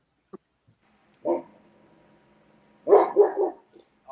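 A dog guarding the house at home barks a few times, one short woof followed by a quick cluster of two or three barks, close and moderately loud with no talking.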